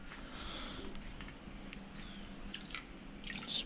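Soda ash being stirred into a container of water for tie-dye gives faint, quiet sloshing and dripping with a few soft splashes.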